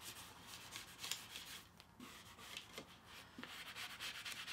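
A felt-tipped spatula smooths decoupage paper onto a window pane, making a soft, steady rubbing and scraping with irregular strokes, faint and close, with no talking.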